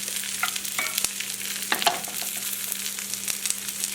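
Frittata ingredients and onions sizzling in a pan, a bright steady frying hiss with a few scrapes and clinks as they are spread flat.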